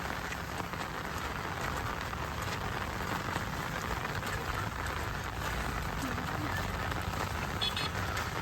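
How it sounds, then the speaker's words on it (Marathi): Steady, dense rain pours down at the Kushivali waterfall picnic spot near Kalyan, a continuous close hiss of drops hitting surfaces with no break throughout. "पाऊस आला"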